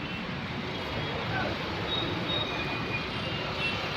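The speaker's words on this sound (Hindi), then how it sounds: "मेट्रो जा रही है" A metro train rumbles past near Shaheen Bagh, New Delhi, in a steady, broad roar with faint metallic squeals, heard from a moderate distance amid busy outdoor noise.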